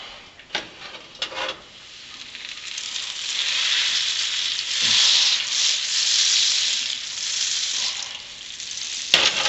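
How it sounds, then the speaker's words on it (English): Butter heating in a frying pan for cooking morels: a few spoon clicks at first, then a hissing sizzle that swells and holds steady, close and moderately loud, with a sharp knock at the end. "get my butter nice and hot without burning it"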